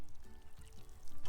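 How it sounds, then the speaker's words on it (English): Water poured from a watering can onto a freshly planted seed in a pot, a brief, close, steady gurgling pour lasting about a second. "Got my watering can? We'll give it a water."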